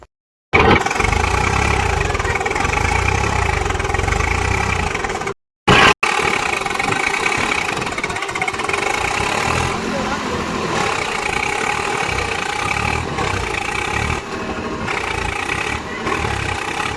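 Tractor engine running steadily while stuck in the ground, a loud continuous mid-pitched roar with brief cutouts near the start and voices talking over it.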